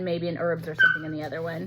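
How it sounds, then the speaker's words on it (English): Dogs whimper and yip in the background, with a sharper yelp partway through, while someone talks over them in the foreground. "Sorry about the dogs."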